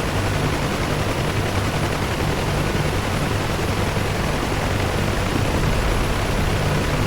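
A helicopter in the DCS flight simulator hovers light on its skids, producing a constant, even rotor and turbine drone with a low, steady hum throughout, no voices over it.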